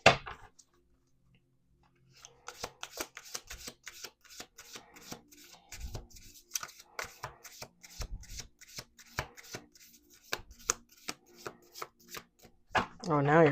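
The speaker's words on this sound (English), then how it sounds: "Okay, one more shuffle." A deck of playing cards is shuffled by hand up close, with rapid crisp riffling and snapping bursts in quick succession after a brief quiet start, ending in a louder flurry.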